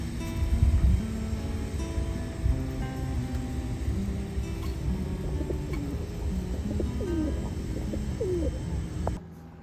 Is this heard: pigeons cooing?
yes